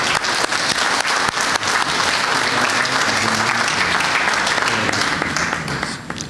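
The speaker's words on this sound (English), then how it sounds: "give them a round of applause for their service for the past year" A crowd at an association's annual general meeting gives a loud, sustained round of applause to outgoing committee members, dense clapping that holds steady and then begins to thin at the end.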